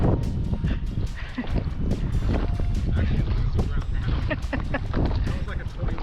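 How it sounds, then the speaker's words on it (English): A strong wind gust of about 20 miles per hour roars across the microphone while kayaking in Salt Run at Anastasia State Park, loud, rough buffeting noise with bumps and splashes as people talk over it. "That was like a 20-mile-per-hour gust."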